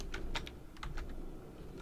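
Quick bursts of keystrokes on a computer keyboard, several close taps clustered together with short pauses between, fairly quiet over a low steady background hum.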